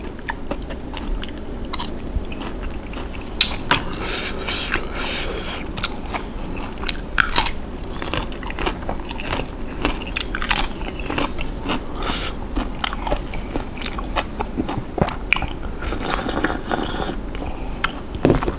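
Crunchy shrimp soaked in fish sauce being chewed up close, with rapid repeated bites and crunches in an irregular rhythm throughout, no talking.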